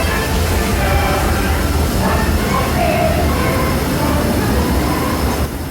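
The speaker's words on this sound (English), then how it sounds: "Welcome aboard the Disneyland Railroad." Disneyland Railroad steam train rolling along the track, a loud steady rumble of wheels and carriages with rattling and occasional faint squeals, close by and continuous.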